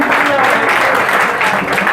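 An audience at a Hindi spiritual discourse claps together, a dense, loud and continuous burst of applause lasting a couple of seconds with no pauses.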